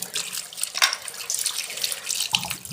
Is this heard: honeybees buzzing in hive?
no